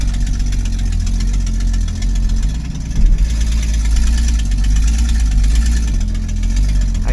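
A 1966 Ford Mustang V8 idles close by, a loud, deep, lumpy rumble with an uneven, slightly rough rhythm and a brief louder surge midway, with no voices.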